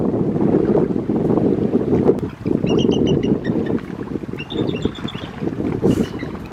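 Boat moving across water in Voyageurs National Park, a steady rushing wash and low rumble with wind buffeting the microphone, continuous and close, with faint bird chirps above.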